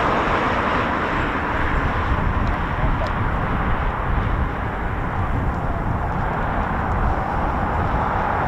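Eurofighter Typhoon FGR4 jet approaching RAF Coningsby, a loud sustained low engine roar that holds steady throughout without voices.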